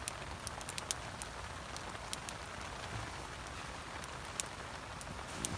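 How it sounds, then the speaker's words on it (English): Heavy winter rain pelting down on a canvas tent, a dense, continuous hiss with scattered sharp drop ticks, fairly quiet and close, with no voices. "the rain's on, it's absolutely pelting it down"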